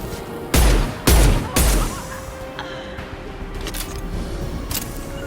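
Gunfire in the video game Mass Effect 2 Legendary Edition: three loud, heavy blasts in quick succession, followed by quieter rumbling and scattered distant shots with a faint tone underneath.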